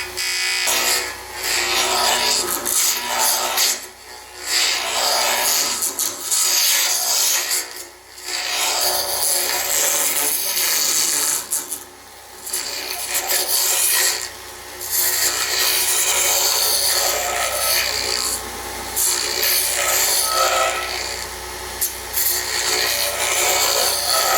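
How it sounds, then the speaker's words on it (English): Acrylic blank spinning on a wood lathe at full speed while a 3/4 inch roughing gouge cuts it, giving a loud, sustained rasping scrape with several brief pauses where the tool lifts off. "here I'm using my crown tool 3/4 inch roughing gouge"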